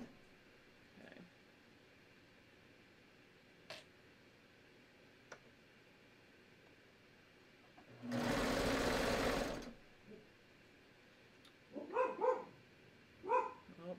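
Dogs bark in a home sewing room, a few sharp barks in two short clusters near the end, after a loud sewing machine run in the middle and faint scattered ticks.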